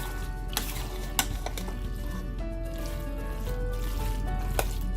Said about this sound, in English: Just continue stirring.